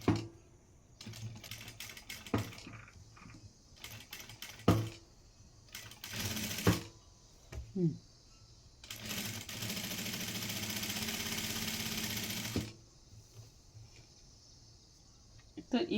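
Sewing machine stitching a fabric mask, with short clattering stitch bursts followed by a longer continuous run, close and moderately loud, with small handling noises in the gaps.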